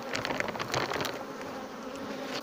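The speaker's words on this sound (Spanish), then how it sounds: "hay población de abeja, miren." A swarm of honeybees buzzes steadily around a recently divided beehive, a dense close drone with individual bees zipping past the microphone.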